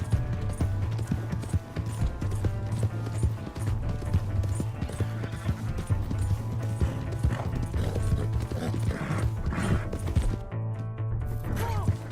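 Rapid horse hooves galloping in a steady drumming rhythm, loud and continuous, over a busy bed of music and game effects in Red Dead Redemption 2.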